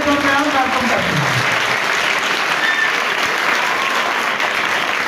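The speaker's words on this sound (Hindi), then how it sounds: "तो हम भरपूर तालियों के साथ फादर अजीम जान को अपने दरमियान वेलकम करते हैं।" A church congregation at a parish anniversary celebration applauds loudly to welcome a priest, with full, steady clapping throughout and a voice trailing off at the start.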